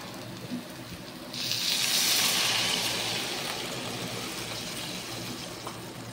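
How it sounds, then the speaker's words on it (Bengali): Hot water poured into a pan of spiced oil for a fish curry with fresh pond catla, a sudden loud hissing sizzle that swells and then settles into a steady bubbling hiss, close and with no talk. "তো এবার আমরা গরম জল অ্যাড করে দেব।"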